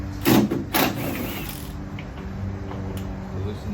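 Tail light bolts on a Nissan Titan XD are loosened with a tool, giving two quick ratcheting clicks up close followed by quieter creaks and mechanical handling.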